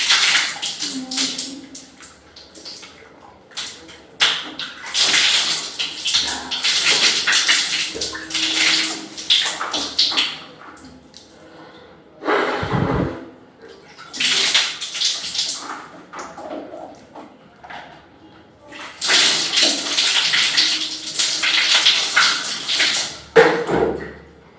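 Water runs from a tap during face washing, coming in several separate gushes and splashes with short pauses between them, close by.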